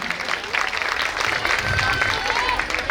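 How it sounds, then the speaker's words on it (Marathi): An audience at a live comedy game show claps continuously for a few seconds while voices talk over the applause. "चला जरा जोरदार टाळ्या जरा झाल्या पाहिजे त्यांच्यासाठी"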